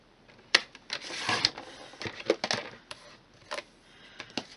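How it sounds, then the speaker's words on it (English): Paper trimmer slicing card stock for a Stampin' Up! greeting card, heard as several short, close rasping strokes and scrapes in an irregular rhythm, with no talking. "I'm going to trim this to within 1 inch of its life."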